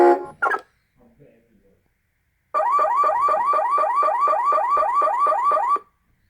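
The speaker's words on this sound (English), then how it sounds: "it doesn't take as long for the alarm to sound off like it does on the newer ones" A toy Chevrolet SSR's electronic car alarm blares a rapid, repeating warbling chirp loudly for about three seconds before cutting off, after a brief burst of toy sound at the start.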